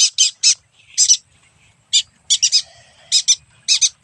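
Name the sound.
pet bird calling during free flight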